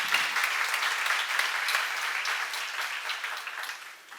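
A church congregation at a seminar applauds together in a dense, even burst of clapping that holds steady for several seconds and then begins to taper off, with no talking over it.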